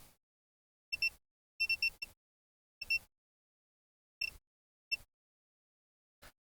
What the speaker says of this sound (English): So you see we get a beep on the outside but not on the inside.